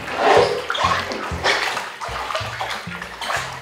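Water is poured repeatedly over a bather. The pours come as a steady run of loud, close splashes and gushes, roughly one every half second, with no talk over them.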